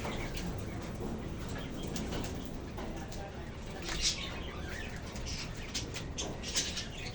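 An old pet pigeon, a hen still laying eggs, coos softly amid a busy, noisy background, with a couple of louder rustles that may be wing flaps.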